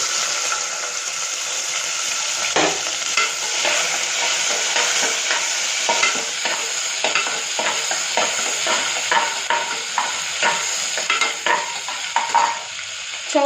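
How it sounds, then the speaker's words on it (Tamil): Steady hot-oil sizzling of onions frying, with frequent stirring scrapes and clinks, continuous and close, no voices. "இப்போ நம்ம வந்து எண்ணெய் ஊற்றிருக்கோம். வெங்காயம் போட்டுக்கலாம்."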